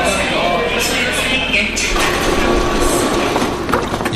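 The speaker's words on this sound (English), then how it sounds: "One of my favorite things about Korea is its subway system and those silver gray trains with the blue and orange doors." A Seoul subway train runs with a loud, steady rumble and rushing roar, some faint rail clatter in the mix, and a narrator speaking over it throughout.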